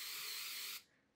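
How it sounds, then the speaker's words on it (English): A single steady hiss of hairspray from an aerosol can sprayed onto a spoolie brush, close and soft, lasting under a second before cutting off into near silence. "Spray it on your spoolie."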